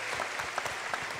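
Audience applause for a singer at an Indian Oil classical music concert, a steady dense clapping from a large crowd lasting about a second.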